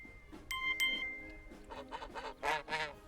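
Geese honk and cluck in a quick, uneven run of calls from the Detroit: Become Human game score, with a bright, brassy tone in the blend. It is fairly faint, and there is no talk.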